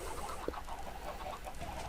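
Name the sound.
chickens clucking in Minecraft video game farm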